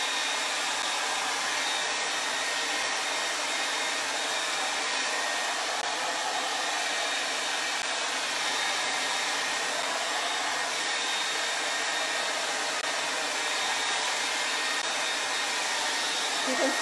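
A hair dryer blows steadily and loudly over freshly applied bronze patina paint on a stenciled surface, a continuous broadband whoosh with no talk.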